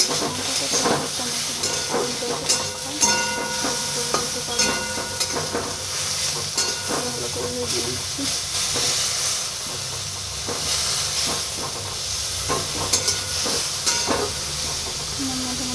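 Crushed ginger and green chili fry in oil in a pan with a constant hissing sizzle, broken by sharp scraping clicks of a spoon stirring at irregular intervals, close and fairly quiet.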